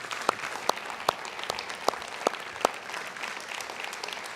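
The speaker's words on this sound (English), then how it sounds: "Let's give them another round of applause." An audience applauds high school performers with a steady wash of clapping and a few sharper, distinct claps standing out at regular intervals, moderately loud, with no talk over it.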